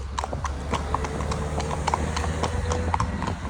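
Hooves of a 23-year-old horse clip-clop briskly at a jog on a paved main road, a steady close rhythm of sharp strikes over a low rumbling background.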